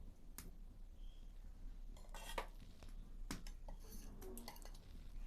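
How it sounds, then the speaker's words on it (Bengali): A bowl being lifted while making potato roll samosas: a few soft, close clinks and knocks of dishware against a quiet room, with no talking. "এই বাটিটাকে তুলে নেব।"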